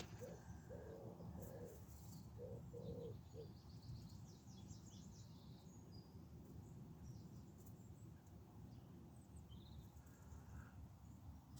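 A single pigeon coos softly in a few repeated low notes early on, faint and distant over a steady wash of ambient outdoor noise.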